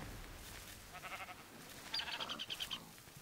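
Bleating from sheep in the Minecraft video game, a run of short pulsing calls repeated through the clip, moderately loud with a denser, brighter burst in the second half and no speech.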